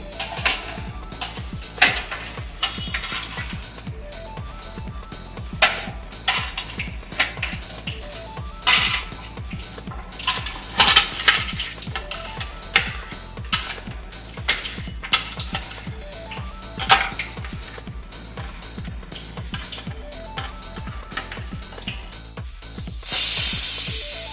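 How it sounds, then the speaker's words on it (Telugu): Mustard and fenugreek seeds spluttering in hot oil, a dense run of sharp crackles and pops with repeated clatter of a utensil against the pot, fairly close and loud throughout. "ఇప్పుడు కాగిన తర్వాత ఆవాలు, మెంతులు వేసాను. చెడిపట్టలాడింది."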